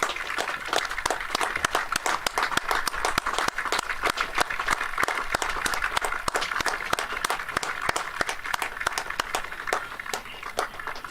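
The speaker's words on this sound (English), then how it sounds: "I'll leave you with the noise of the crowd." A cricket crowd at a club match applauds the batsman with steady, continuous clapping of moderate loudness throughout, scattered individual claps forming an even, distant patter.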